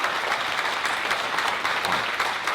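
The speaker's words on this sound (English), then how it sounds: "You can clap on that." An audience at a workforce development graduation claps loudly and continuously, a dense, even wash of applause with no speech over it.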